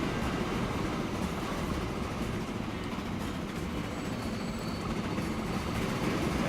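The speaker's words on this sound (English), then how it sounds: "there's quite a bit of trains running on that one track" Several trains run along a single shared track in the railway-building game Transport Fever, producing a steady, dense rumble of rolling wagons that stays constant throughout with no talking.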